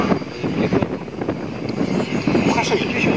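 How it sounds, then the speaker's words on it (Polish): An H-60 medium transport helicopter at the 2011 Radom air show produces a continuous loud, droning roar while someone talks over it throughout. "jest to średni śmigłowiec transportowy"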